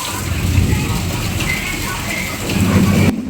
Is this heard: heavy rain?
yes